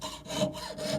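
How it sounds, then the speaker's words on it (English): A jewelry saw blade cuts through a workpiece in long, even strokes, giving a rasping back-and-forth sound close by with about two to three strokes, each swelling and fading, heard alone without talk. "when you're sawing around corners, you want to make sure to move the piece and not the blade"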